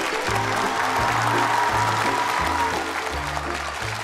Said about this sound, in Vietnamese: Một tràng pháo tay dành cho cặp đôi mới của chúng ta.